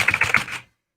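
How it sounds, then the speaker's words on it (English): A loud 80s-style computer keyboard clatters with a quick burst of about six rapid, sharp keystrokes, close and clear, ending abruptly after half a second. "You know, my keyboard is so loud."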